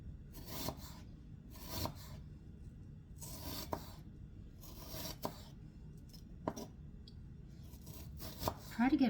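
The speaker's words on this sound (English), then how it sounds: "Thin slice an onion. I'm going to make half moons." A knife cuts an onion into thin half moons on a board. Sharp, quiet strokes come roughly once a second with pauses between them, close by.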